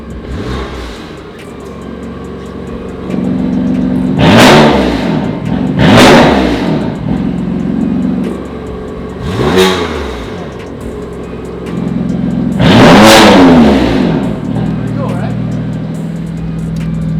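Car engine with an Armytrix valved exhaust revving in four sharp blips that rise and fall over a deep idle, loud and close, with a voice talking in between.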